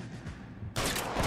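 Gunfire at a corpse in LA Noire: after a stretch of low rumbling background, a sudden loud burst of shots crackles in and stays dense and harsh to the end, with no speech.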